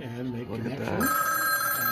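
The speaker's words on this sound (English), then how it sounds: "The phone will ring" An old telephone bell on a museum switchboard at the InfoAge Science and History Museum starts ringing partway through, a loud, steady metallic trill, with someone talking just before it begins.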